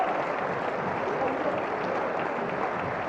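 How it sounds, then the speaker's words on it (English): A crowd cheers and applauds at a padel final in Espoo, Finland, a dense steady roar of clapping and shouting filling the whole moment, moderately loud and constant. "And the crowd going crazy"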